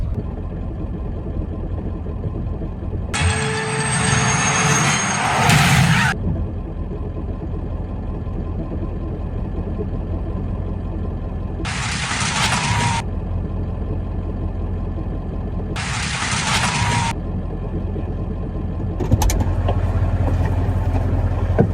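An old abandoned diesel truck with no brakes coasting down a road: a loud, steady engine and road rumble fills the whole stretch, with several bright hissing bursts lasting a few seconds each.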